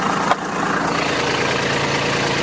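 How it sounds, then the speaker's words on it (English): A tractor engine idles steadily close by, a loud, even low rumble with a fine rhythmic chug and one brief click near the start. "I got to play with the tractor on a Sunday,"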